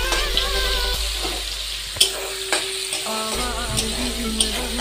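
Ginger paste goes into a pan of frying onion and tomato, giving a steady close sizzle with scraping stir strokes and a few sharp utensil clicks, and no talking.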